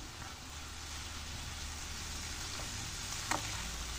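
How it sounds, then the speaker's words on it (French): Bell peppers seasoned with salt and pepper frying in a pan over medium heat for mini pizzas, giving a steady, faint sizzle throughout with one brief clink near the end. "Je vais les faire revenir et laisser cuire sur feu moyen"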